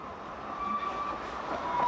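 A narrow-gauge light railway train at Bredgar and Wormshill rolls along with a steady rumble of wheels and a thin, high squeal rising briefly over it, close and continuous.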